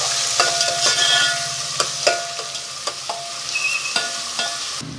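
Onions sauté in a little oil in a pan for a broad-bean curry, a steady close sizzle broken by sharp scraping stir strokes of a spatula, with no one talking.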